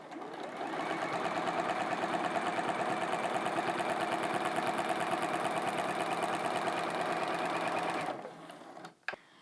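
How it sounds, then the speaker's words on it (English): A sewing machine runs steadily for about eight seconds, stitching a quilt straight along marked lines, its fast even needle rhythm loud and close before stopping, followed by a brief clatter. "all I'm going to do is keep pulling up thread and stitching off the edges of the quilt, just following these marked lines"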